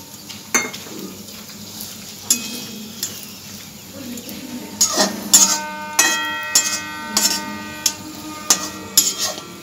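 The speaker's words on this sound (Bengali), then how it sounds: "আর একটু তেল দিয়ে দিচ্ছি রুটির তলা দিকটা ভাজার জন্য।" Roti frying in oil in a pan for egg rolls, with a steady low sizzle under repeated sharp scrapes and taps of a utensil against the pan, close by and moderately loud.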